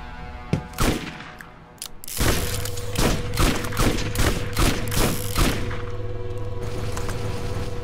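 Gunfire in the video game Borderlands: a few isolated shots ring out, then a dense volley of repeated heavy blasts and booms rolls on steadily over a low droning background.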